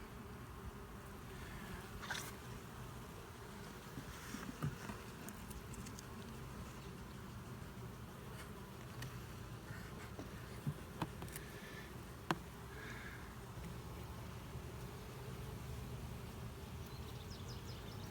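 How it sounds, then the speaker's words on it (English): A low, continuous hum of honeybees at a hive fills the air, faint and steady, with occasional small clicks and taps over it. "I'm seeing a lot of new bees here"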